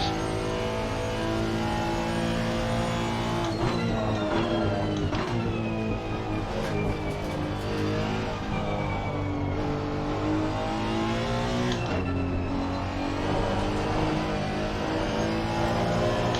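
Engine of a 2018 Honda NSX race car in Assetto Corsa Competizione at Spa, a steady loud drone that rises and drops through gear changes for the whole stretch, with no talking over it.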